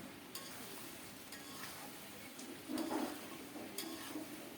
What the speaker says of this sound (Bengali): এখন দেব ভেজে রাখা আলু আর শালগম